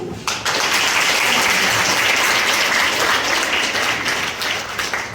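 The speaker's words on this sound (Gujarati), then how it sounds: "તો તમારા પોતાના માટે આપણે તાળીઓ પાડીએ" An audience at a World Disability Day gathering breaks into loud, sustained applause, a dense wash of many hands clapping together that starts abruptly and carries on for about five seconds without pause.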